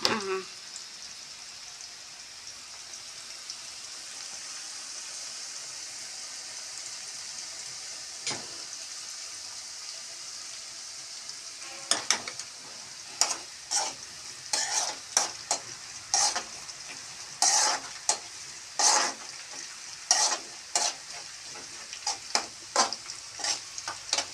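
Chili and curry leaves frying in oil for homemade mango pickle: a soft hiss at first, then a long run of sharp crackling pops and spatters, close and lively, with no talking.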